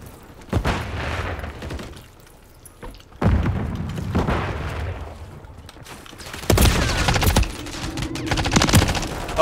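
Bursts of automatic and single-shot gunfire ring out in Call of Duty Modern Warfare 3 on the Favela map, loud thudding volleys separated by short lulls, with the heaviest fusillade near the end.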